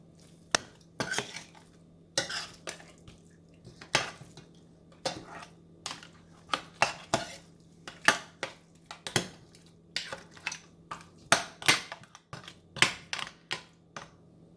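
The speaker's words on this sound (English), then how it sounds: "So I given a good stir" A spoon or spatula repeatedly clicks and scrapes against a pan while lobster masala is stirred, sharp irregular taps over a low steady hum, close and fairly quiet.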